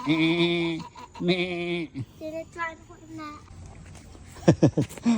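A goat bleats twice in quick succession, close by and loud, during a family holiday outing in the Philippines, followed by a child's chatter and other voices.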